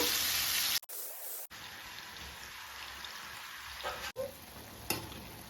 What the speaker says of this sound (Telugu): ఈ చికెన్ను ఫ్రై చేసుకుందాం మనము